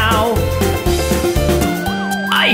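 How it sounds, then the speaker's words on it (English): A wailing police siren sweeps up and down over a loud, busy monster truck cartoon song with a steady bass rhythm, the siren rising clearly near the end. "I hear police sirens!"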